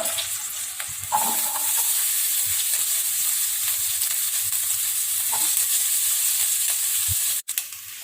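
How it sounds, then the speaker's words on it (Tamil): Small onions sauté in a pan, giving a steady, close, hissing sizzle that runs unbroken for several seconds, with a few faint utensil taps and a sharp click near the end. "இப்போ வெங்காயம் வதங்கிட்டு இருக்குங்க"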